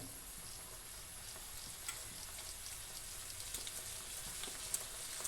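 Chopped carrots and green chili sautéing in a pan give off a steady, soft sizzle throughout, with faint scattered ticks from stirring and no talk.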